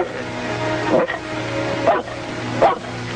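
Dog barking three times in evenly spaced single barks over a steady low background hum, moderately close and clear.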